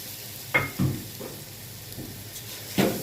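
Rice is stirred in a frying pan with a few short scraping and sizzling strokes over a low, constant hiss, close and fairly soft.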